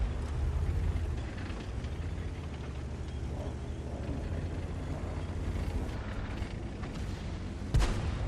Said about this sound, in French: je viens de me faire prendre un tir d'artillerie